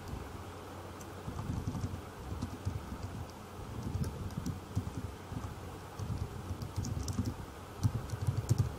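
Steady typing on a computer keyboard, a continuous patter of soft close keystrokes over a faint background hum throughout.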